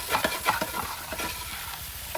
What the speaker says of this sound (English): in this pan, I'm going to take those habaneros in